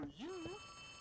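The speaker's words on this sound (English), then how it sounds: "Oh, I got a phone call." A telephone rings in the Poppy Playtime Chapter 3 video game: a single short electronic warbling tone that rises and wavers, then trails into a steady ringing hum.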